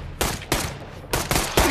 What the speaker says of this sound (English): Shesta, you're shooting your boyfriend